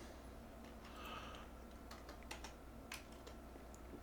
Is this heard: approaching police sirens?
no